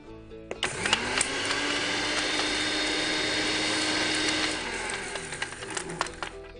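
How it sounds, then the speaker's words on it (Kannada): A kitchen mixer grinder whirs steadily as it blends ginger and curry leaves, a loud continuous motor drone with a rising pitch at start-up, running alone for several seconds before winding down. "ಏನೋ ಮಿಕ್ಸಿ ಮಾಡ್ಕೋಬೇಕು."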